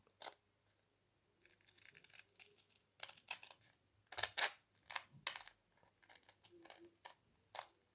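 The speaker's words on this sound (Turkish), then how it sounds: "Bunu evdeki standart makaslara zarar vermemek için bu makasla yapıyorum." A pair of scissors snips and crunches through material in uneven bursts of short, sharp cuts with brief pauses, close and fairly quiet, while someone talks faintly at moments.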